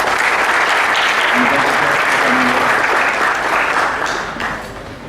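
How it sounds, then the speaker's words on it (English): An audience gives a loud, dense round of applause for a speaker at a Digital India lecture event, sustained for about four seconds before tapering off. "So big round of applause for him."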